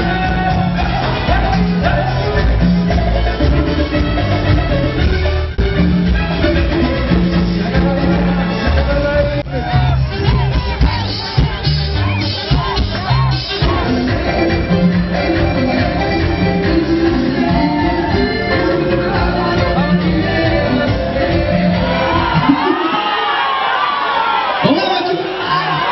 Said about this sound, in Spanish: Así que fuerte el aplauso para Karina